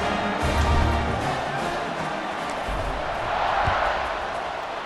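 A stadium crowd in a college football video game, a steady roar of many voices at moderate level that swells slightly toward the end.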